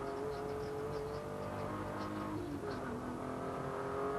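Volkswagen Vento VR6 race cars at a 1997 circuit race, engines droning and revving steadily out of a hairpin, a continuous mid-distance roar with shifting pitch as the cars climb away.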